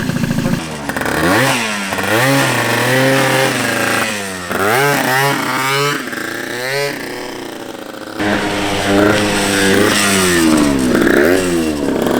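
A 120cc stroker Honda Elite moped engine with a new carburetor revs up and down repeatedly, loud and close, with buzzy rising and falling pitch sweeps and brief dips between blips.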